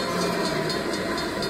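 Train feature sound effect from a Lightning Link casino slot machine: a steady, loud rumbling hiss like a moving train that fills the whole moment, with no talking over it.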